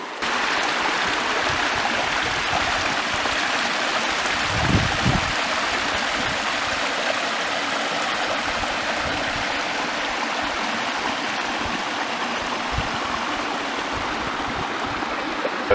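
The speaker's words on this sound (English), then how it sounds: "And there's another set of falls down past there." Waterfall spilling down a series of falls into successive pools, a steady, broadband rush of flowing water that stays close and constant throughout, with no voices.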